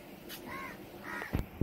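A couple of crow caws ring out at a moderate distance outdoors, followed by two sharp knocks near the end, against a quiet background as rain begins.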